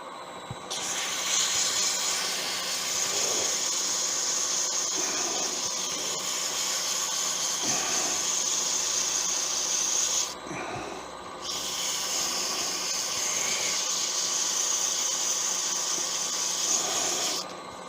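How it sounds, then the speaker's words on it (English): Sandpaper at 240 grit hisses steadily against a wooden pen blank spinning on a lathe, a sustained close rasp that pauses briefly midway before resuming. "Now, we give this a sand."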